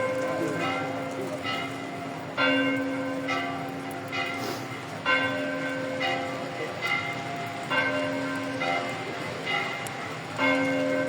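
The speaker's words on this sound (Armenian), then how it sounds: "Զանգերը ղողանջում են միայն" Church bells ring at Holy Saviour Church in Gyumri, Armenia, in slow, evenly spaced strikes about every two and a half seconds. The rich, lingering tones carry steadily at moderate distance over a faint background murmur.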